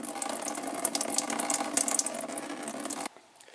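Coolant water draining in a steady gush from a disconnected radiator hose on a Ford Fiesta ST during a radiator swap, splashing loudly and close, then cutting off abruptly near the end.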